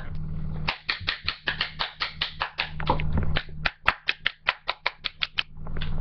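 Sharp hand claps ring out in a fast, even run of about twenty, close and crisp, with a brief pause midway and a low background hum under them.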